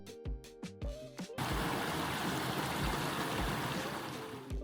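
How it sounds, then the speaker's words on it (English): A beck trickles along the bottom of a valley at Bronte Falls, heard as a steady broadband wash of running water after a few brief knocks and rustles at the start. "a relaxing sound of the beck trickling past us at the bottom of the valley"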